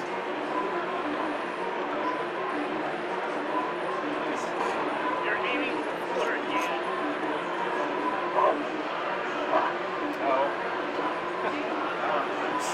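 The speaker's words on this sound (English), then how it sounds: "I feel like this dog is programmed a little bit more intelligent than the other one" A dog in the video game Resident Evil Zero barks, yips and whimpers under busy talk from players at a demo, with steady game noise throughout.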